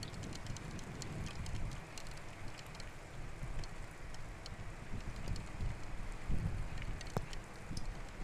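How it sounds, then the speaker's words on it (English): Raindrops hit a camera outdoors during a tornado storm in Beaver, Oklahoma, making a steady close patter of tiny ticks over a dense, rushing rumble of rain and wind, with no voices. "You guys can hear the raindrops hitting the camera."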